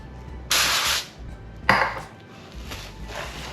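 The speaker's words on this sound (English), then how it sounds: "I'm gonna spray the top of my saran wrap" Two short hissing bursts from a cooking spray can onto plastic wrap, close up, followed by a few softer sprays and light rustling.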